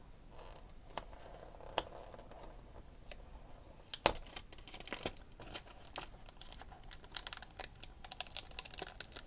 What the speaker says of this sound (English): it seems the tapes can be removed easily